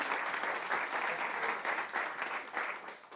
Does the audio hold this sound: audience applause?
yes